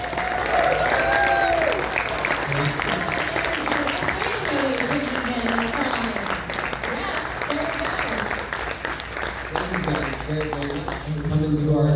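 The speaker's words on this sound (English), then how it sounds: "Y'all give them a round of applause." Audience at a Kingdom Hearts fan panel at a fan festival bursts into sustained applause and cheering, loud and steady throughout, with voices calling out over the clapping near the end.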